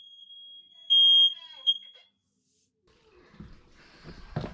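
A household smoke alarm sounds during a system test, a shrill steady electronic tone that swells loud for about a second, then cuts off, followed by quiet and faint voices and handling noise.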